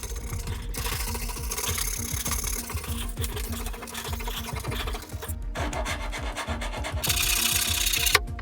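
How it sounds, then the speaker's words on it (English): Someone hand sands painted, veneered furniture with steady back-and-forth rasping strokes. The scraping is close and continuous with a quick, regular rhythm, and it briefly pauses and shifts in pressure near the end. "there's gonna be a lot of sanding, and a lot of it will be by hand"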